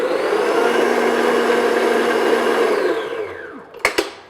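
An electric mixer beats jam tart dough in a bowl with a steady, loud whir for about three and a half seconds, then winds down and stops, followed by two sharp clunks.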